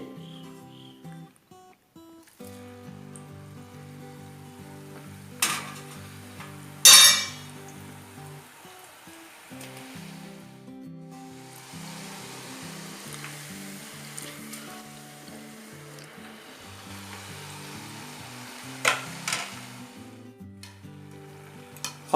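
Murukku fry in hot oil with a soft, continuous sizzle, punctuated by a few sharp metallic clinks of a utensil against the pan, over a low tonal background.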